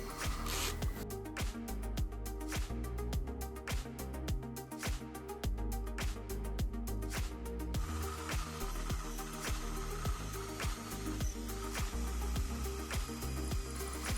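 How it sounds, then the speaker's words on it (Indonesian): A drill whirs steadily with a gritty, rattling texture, its pitch shifting as it enlarges a hole during Vespa Corsa ignition coil work, running almost continuously at moderate distance. "Kita bor aja lubang gedein dikit."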